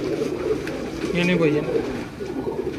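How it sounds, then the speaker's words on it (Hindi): Breeder pigeons cooing close by, low soft throaty coos rising under and between a man's speech. "बहुत लाजवाब कबूतर हैं जी।"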